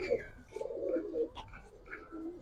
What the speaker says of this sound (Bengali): ভাই একজন হাই ফ্লায়ার খাকি কবুতর ভাই